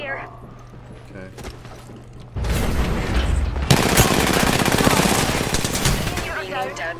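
Heavy blaster gunfire in a Star Wars shooter: sparse shots at first, then a dense, loud, continuous barrage of rapid fire with overlapping bursts that lasts several seconds before easing off.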